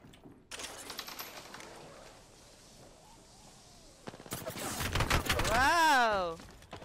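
Rapid Apex Legends gunfire rattles out in a dense burst of loud shots, followed by a rising, warbling electronic effect, with a voice talking briefly under the action.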